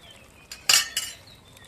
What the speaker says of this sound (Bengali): আমি আরেকটু নেড়ে দিলাম।